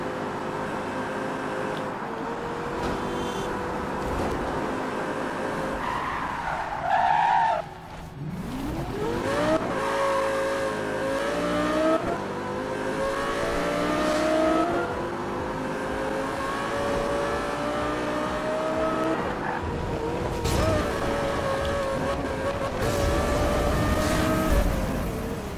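A race car in the video game Need for Speed Rivals revving and accelerating through rising gear sweeps, with a brief tire squeal and a momentary dip before the engine climbs again, loud and continuous throughout.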